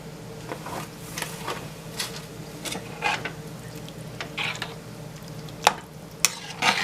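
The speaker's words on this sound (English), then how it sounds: "We're going to let this simmer." Thick spaghetti sauce simmers in a pot with a low bubbling hiss, broken by scattered pops, soft clicks and spoon knocks.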